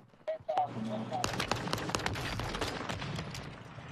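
Rapid bursts of gunfire in a video game, sharp repeated shots crowding together and running continuously, with several people talking and shouting over the shooting.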